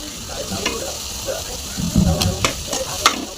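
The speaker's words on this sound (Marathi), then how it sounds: "जसा मसाला भाजत जातो तसं तेल त्याला सुटत जातं" A masala of dried coconut roasts in oil in a pan, giving a soft, low sizzle broken by a few scraping stirs of a spoon, close and fairly quiet.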